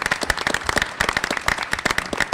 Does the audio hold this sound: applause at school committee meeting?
yes